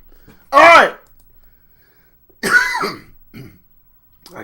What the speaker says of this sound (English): I coughed on camera.